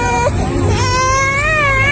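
A baby girl cries in a short, loud, wavering wail that rises and bends in pitch, heard close and on its own.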